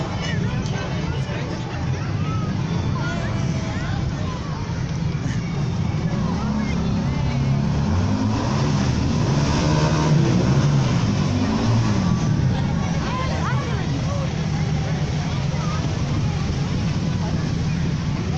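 Tipperary Fire and Rescue Service vehicles roll past in a St. Patrick's Day parade in Nenagh, a steady loud engine rumble carried over the constant babble of a nearby crowd, swelling slightly midway as the vehicles pass.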